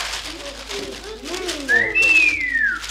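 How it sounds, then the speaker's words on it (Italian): In a classroom scene, a person gives a loud rising-and-falling wolf whistle that sweeps up and then slides down, heard over a murmur of voices. "Cosa c'è da fischiare?"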